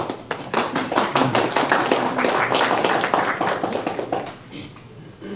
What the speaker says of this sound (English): I'm glad you're clapping at it.